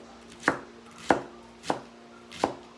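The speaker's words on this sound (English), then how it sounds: "I know you can hear how fresh it's chopping" Fresh, crisp vegetables being chopped with a knife on a board for a country potato salad, four sharp, evenly spaced cuts landing close and clear with no voices over them.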